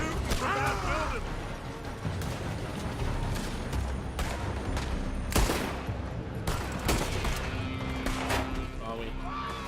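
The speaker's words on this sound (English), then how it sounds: "They're shooting from that building." Gunfire from a building in the video game Red Dead Redemption II, sharp shots cracking out at irregular intervals over a constant loud game backdrop, with someone talking throughout.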